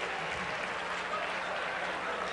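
Audience clapping in a presentation hall, a steady dense patter of many hands filling the whole moment at moderate, fairly quiet level, with no voices breaking through.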